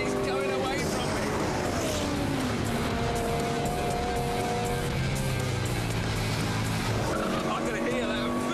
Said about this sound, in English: I can hear that V-twin